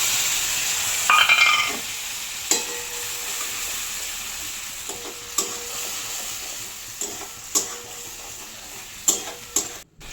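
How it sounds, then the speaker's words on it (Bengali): Onion and tomato paste frying in oil with chopped garlic for a pomfret fish curry, a steady close sizzle broken by a louder burst and then repeated spatula scrapes and stirs every second or two. "পেঁয়াজ আর টমেটো বাটাটা এর মধ্যে দিয়ে দিলাম।"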